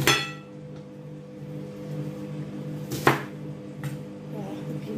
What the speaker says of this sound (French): je vais découper ça en quartier comme ça